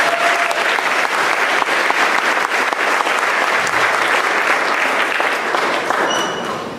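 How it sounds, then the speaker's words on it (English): At an eighth-grade graduation ceremony, a large audience gives the commissioner a loud, sustained round of applause, steady and dense before tapering off near the end. "Give him another big round of applause."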